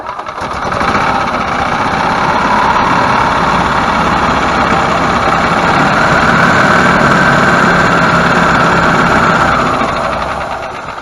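A Yamaha golf cart engine runs steadily after a repair to its solenoid and ground connection, a loud, continuous idling rumble with a faint knocking vibration that holds for about ten seconds.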